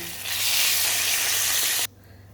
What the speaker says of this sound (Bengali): তেলের মধ্যে দিয়ে দেবো জিরে ফোড়ন দিয়ে দেবো গোটা গরম মশলা ফোড়ন আর দিয়ে দেবো তেজপাতা ফোড়ন